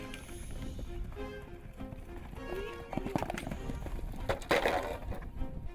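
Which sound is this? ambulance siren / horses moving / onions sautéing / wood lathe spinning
horses moving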